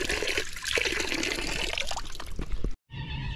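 Water trickling and splashing from a drinking fountain at a wildlife park in Izmir, Turkey, a steady close stream that cuts off briefly and then resumes.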